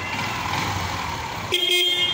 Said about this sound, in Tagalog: Tapos, busina.